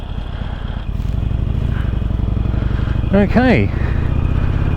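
The engine of a 2007 motorcycle idles with a steady, loud rumble throughout, and a brief rising sound and a spoken word occur partway through.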